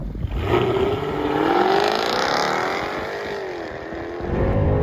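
A 2016 Jaguar F-Type R's supercharged V8 roars as it accelerates hard, revving up with quick gear shifts, loud and close throughout.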